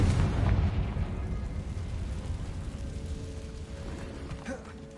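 A deep, rumbling explosion from a Confringo blast spell in Hogwarts Legacy on PS5 starts loud and low, then rolls away into a long fading boom with faint creaking debris toward the end.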